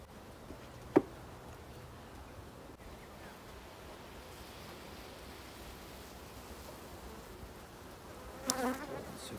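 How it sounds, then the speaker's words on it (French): Honey bees swarm over a hive frame in a beekeeper's struggling colony, their buzzing a faint, steady hum throughout, broken by a sharp click near the start and a short brighter burst toward the end. "c'est plein d'abeilles."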